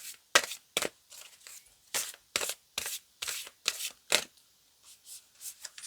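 Tarot and oracle cards being shuffled by hand, a series of crisp riffling bursts in quick uneven rhythm, close and clear with short pauses between.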